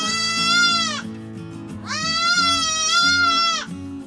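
A baby goat bleats loudly and close by in two long, wavering cries, with a lower, steady animal call running beneath them, set in the middle of disbudding young goats.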